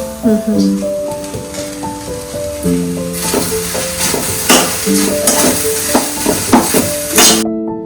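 Ladies finger (okra) fries in oil with lemon juice in a village-style home kitchen. A loud, crackling sizzle with stirring scrapes starts partway through, and melodic music plays underneath the whole time.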